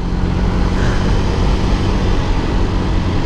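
Hero Karizma XMR 210 motorcycle accelerating while being ridden, a loud steady engine drone with broadband wind rush throughout, no talking.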